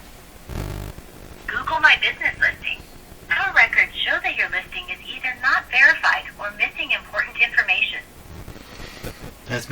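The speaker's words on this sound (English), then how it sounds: "Someone's phoning me. Who's phoning me?" An incoming call sounds on a telephone as a warbling electronic ringtone, repeating in bursts for several seconds after a brief thump, loud and close.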